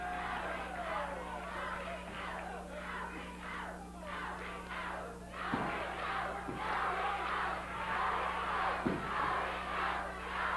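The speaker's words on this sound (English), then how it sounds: "cheering Rick Morton on" A wrestling crowd in an arena cheers and yells steadily for a wrestler, a dense, continuous roar of many voices with a few sharper shouts rising out of it.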